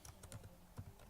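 Someone types a company name on a computer keyboard, with a quick, quiet run of key clicks close by.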